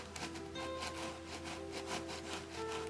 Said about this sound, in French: Peut-être que je vais prendre un couteau à dents de scie, ça ira peut-être mieux.